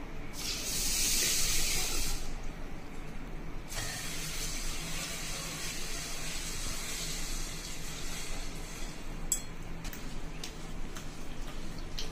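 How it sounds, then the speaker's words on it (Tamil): Water from a tap runs steadily into a vessel of pearl millet grains being washed, a continuous close hiss and splash that is loudest for the first few seconds and then settles to an even flow with a few small clinks. "தண்ணி ஊத்திக்கலாமுங்க."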